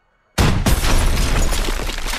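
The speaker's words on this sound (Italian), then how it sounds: "Occhio all'esplosione." A sudden loud blast in the World War II shooter Call of Duty WW2 breaks out of silence, then a heavy rumbling roar with crackling debris that keeps going.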